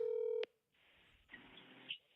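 A phone call is dialed with a short burst of keypad tones, followed after a brief pause by a steady ringback tone on the line, clear and close with no talking.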